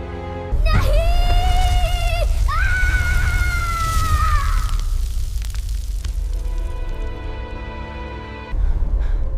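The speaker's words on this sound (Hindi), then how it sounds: "उस तहखाने से हजारों आत्माओं की चीखें सुनाई देने लगीं।" Horror sound effect of massed anguished screaming souls from a cursed cave beneath a haunted mansion's cellar: loud overlapping wails and shrieks sweep over a deep rumbling drone, fading into a low roar before a final swell.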